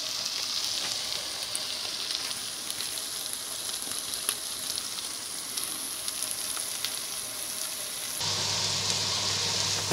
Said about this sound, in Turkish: kıyma kavruldu, soğan, kıyma.